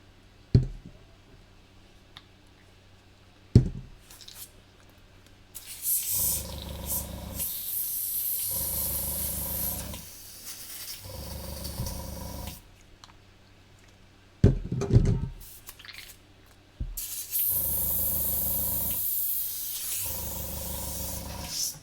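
Bursts of airbrush spraying come and go, steady hissing spells of several seconds separated by quiet gaps, with sharp clicks between them and a low rumbling hum beneath.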